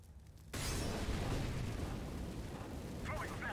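In Counter-Strike: Global Offensive, an incendiary grenade bursts into a sudden roaring whoosh of fire, loud and close. It continues as a steady crackling burn while a voice speaks faintly over it.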